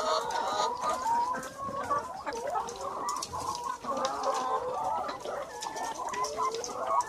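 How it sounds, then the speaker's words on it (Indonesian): Lohmann Platinum laying hens cluck continuously in an egg-layer coop, a dense chorus of overlapping calls close by with no talk over them. "Kalau sekarang mengecek ayam dulu guys."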